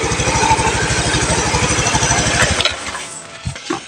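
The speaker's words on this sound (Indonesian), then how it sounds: "Suaranya ini ya, mesin halus" A Beat FI motorcycle engine idles with a steady, rapid low chugging, close and loud, then cuts off abruptly, leaving a few faint clicks and knocks.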